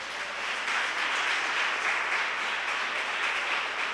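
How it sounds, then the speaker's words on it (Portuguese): A church congregation breaks into steady applause, a dense, even wash of clapping from many hands that holds for several seconds without talk. "Aplaude a Jesus por isso."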